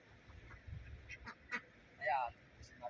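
Ducks at a park pond give faint, scattered quacks, one louder nasal call standing out near the end, over a low murmur of distant background noise.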